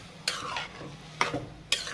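A spoon scrapes and stirs banana flower and prawn curry in a frying pan, three distinct stirring strokes over a soft, steady sizzle close by.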